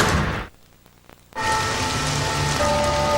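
Rain falling in a TV commercial, a steady loud hiss of rain on surfaces that briefly drops away near the start, then returns with a faint tonal hum beneath it.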